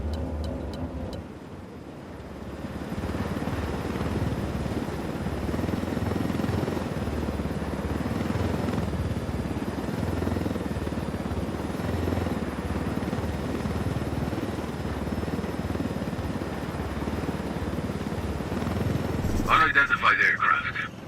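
Helicopter flying low through a canyon in the Ghost Recon Wildlands video game, a continuous rotor thump and engine drone held steady for a long stretch, with voices talking over it and a louder burst near the end.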